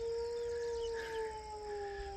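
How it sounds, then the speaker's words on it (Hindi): A farm dog howls in long, steady sustained tones, answering jackals somewhere nearby; the wavering howl runs continuously over low background rumble with no talking. "ये हमारा कुत्ता रिस्पॉन्ड कर रहा है उसको, सम सॉर्ट ऑफ कोई कम्युनिकेशन है इनकी।"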